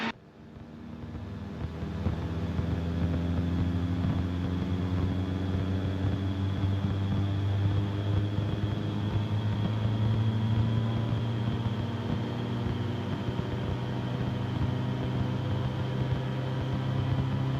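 A Rotorway helicopter engine runs up to full power, a steady loud droning roar with strong low harmonics and a constant whine, sustained with no talk.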